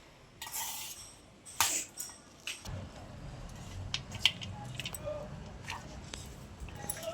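Mango rice is being mixed by hand with tempering oil in a metal dish, making soft, irregular clinks and rustles that are close up and fairly quiet.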